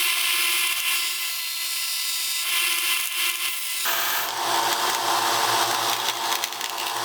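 A belt sander shaping a wooden fishing lure, a loud continuous whirring grind that deepens and roughens midway as the wood is pressed harder against the belt.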